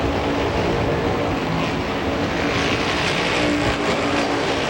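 Stock cars racing at Holland Speedway, a loud continuous roar of engines that stays dense and steady with no gaps and faint rises and falls as the field passes.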